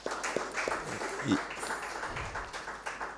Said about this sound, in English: I want to give all you a round of applause again